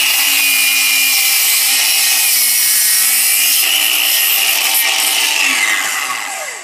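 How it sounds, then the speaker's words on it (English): A battery-powered DeWalt DCS361B 20V cordless compound miter saw cuts through framing lumber with a loud, sustained whine and rasp. The motor winds down at the end of the cut. "But normally you just can't get small battery powered chop saws to do framing lumber like that."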